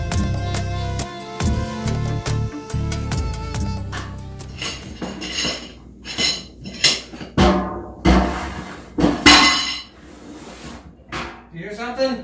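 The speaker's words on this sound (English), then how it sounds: "I'm doing dishes." Dishes being washed by hand: clinks of plates, cutlery and glass with knocks and rattles in an uneven run, fairly close, with a voice talking briefly.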